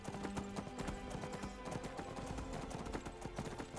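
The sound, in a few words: horse hooves clip-clopping in video game Skyrim Dragonborn DLC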